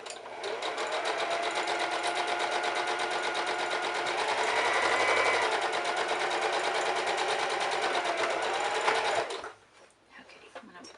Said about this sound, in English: So I'm gonna start sewing and then reverse stitch